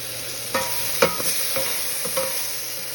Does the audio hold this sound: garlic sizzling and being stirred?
yes